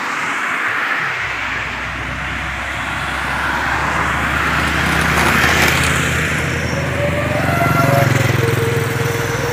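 A motorcycle with a loud aftermarket exhaust drones steadily throughout, swelling slightly in volume, with a gruff low exhaust tone and no voices.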